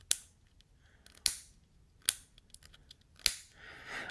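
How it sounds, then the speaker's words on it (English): A folding knife's frame lock snaps into place with four sharp, crisp metallic clicks, close and isolated, spaced about a second apart. "it's got a really solid kind of click when you lock it"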